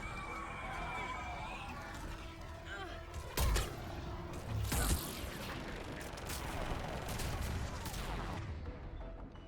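Missiles fire in the Mass Effect 3 video game, two sharp blasts cutting through constant rumbling combat noise, with a voice speaking under the action.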